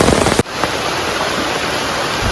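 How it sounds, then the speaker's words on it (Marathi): Dense, loud rush of heavy rain pouring down close by, steady and unbroken after a brief noisy start. "भरपूर जोरदार पाऊस आलाय"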